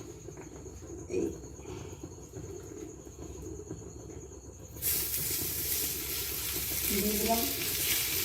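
Palm-fruit pitha wrapped in banana leaf frying on an oiled griddle, a soft hiss that swells into a loud, steady sizzle midway, with someone speaking briefly over it.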